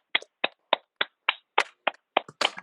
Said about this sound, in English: Let's give the chief a clap.